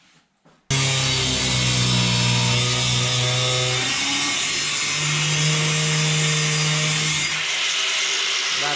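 A metal pipe being sawn through, loud steady rasping strokes with ringing tones, starting abruptly after a brief quiet moment and continuing almost without pause.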